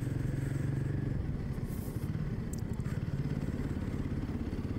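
Heavy traffic on the Mumbai-Goa highway heard from a Royal Enfield Himalayan, with the motorcycle engine thrumming loud and close under constant road rumble and passing vehicles.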